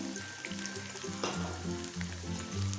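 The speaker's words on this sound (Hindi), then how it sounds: "इसके साथ चिकन को अच्छे से फ्राई कर लेंगे" Chicken sizzles and fries steadily in a pan with a spice paste of cumin, coriander and turmeric, with a low rhythmic rumble of stirring and a brief clatter partway through, no voices.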